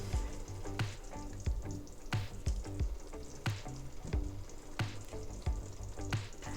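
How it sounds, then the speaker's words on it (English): Prawns cooking in simmering coconut milk make a sizzling, bubbling bed of sound, punctuated by regular soft knocks and scrapes of stirring about every second. "Once the coconut milk starts simmering, it's time for the prawns to go in."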